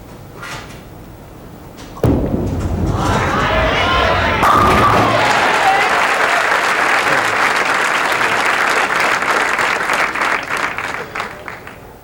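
A capacity crowd at the Garden City Bowl bowling match bursts into loud applause after a quiet opening, then holds sustained dense clapping and cheering before it slowly thins out near the end.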